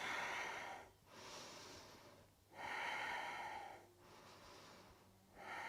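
Slow, deep breathing during a hip-opening yoga flow, with three long, steady breath cycles that rise and fall evenly. The breaths are close and fairly soft, and no one talks over them.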